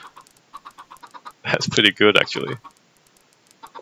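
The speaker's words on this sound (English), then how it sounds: "Oh no, all the baby chickens are following the single adult." Minecraft chickens, a group of baby chicks following a single adult, cluck in short, rapid clicking bursts, and someone speaks briefly in the middle of them.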